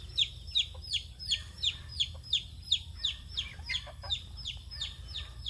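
Chicks peep in a steady run of short, bright calls about twice a second, close and clear over a quiet outdoor background with no talking.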